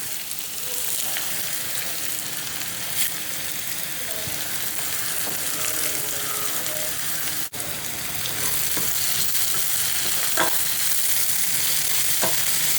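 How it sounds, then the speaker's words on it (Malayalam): Shallots and curry leaves sauté in hot oil in a pan, a steady, close frying sizzle that runs the whole time with a few light clicks and stirring taps. "ചെറിയുള്ളിയൊക്കെ ഇങ്ങനെ ഒന്ന് വഴന്ന് വരുന്നതേ ഉള്ളൂ കേട്ടോ. ഈ സമയത്ത് നമുക്ക് കുറച്ച് കറിവേപ്പില ഇട്ട് കൊടുക്കണം."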